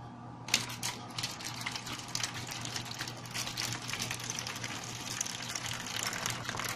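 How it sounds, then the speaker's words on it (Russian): Water is poured into a plastic tray set up for growing onions indoors in winter. It makes a continuous close splashing and trickling with small irregular drips and clicks for several seconds, and no one speaks. "после чего мы наливаем воду"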